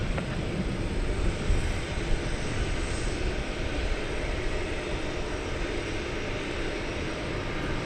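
An American Airlines heavy jet rolls for takeoff on runway 18 left at DFW at night, a broad continuous engine roar that stays steady and fairly loud throughout.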